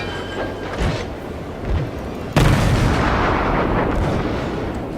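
Naval gunfire in the World of Warships video game: a few muffled booms early on, then one loud, close blast at the midpoint followed by a long rumbling roar that slowly fades.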